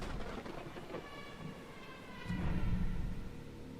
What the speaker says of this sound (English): open-world horror game where you navigate an island in an old train